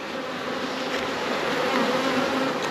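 Honey bees buzz steadily and densely around an open hive during an inspection, a continuous close-up drone with no talk.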